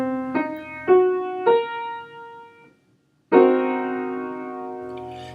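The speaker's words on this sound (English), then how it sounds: "The common name for this is a half-diminished 7th chord." Half-diminished seventh chord sounded on a sustained keyboard-like instrument, first arpeggiated note by note with each tone ringing on, then after a brief silence struck together as a full block chord that slowly decays.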